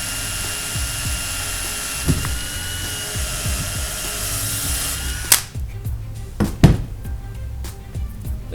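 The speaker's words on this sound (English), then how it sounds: "we're just going to drill a hole straight through this." A power drill bores a hole straight through a homemade universal action camera mount for a kayak, its steady motor whine running loud and close for about five seconds before stopping, followed by a few sharp clicks and handling knocks.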